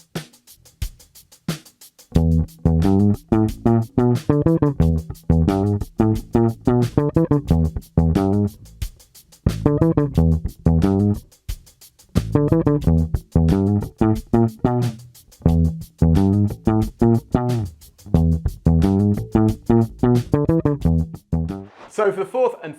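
Funk bass guitar grooves alongside a drum kit in a steady syncopated jam, busy punchy notes with short gaps, close and loud with no talking.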